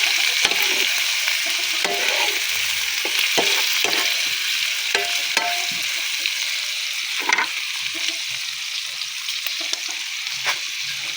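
Boiled chicken gizzards sautéing in a pan for adobo make a constant bright sizzle, dotted with irregular clicks and scrapes from stirring, close up and unaccompanied by speech.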